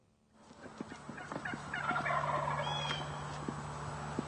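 Wild turkey toms gobbling on the roost before sunup, repeated rattling gobbles rising over a steady low background hum, moderately distant, with no voices.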